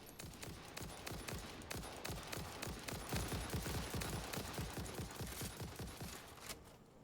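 Rapid automatic gunfire in the video game Satisfactory, a dense continuous stream of sharp shots rattling for several seconds, loud and close before tailing off at the end.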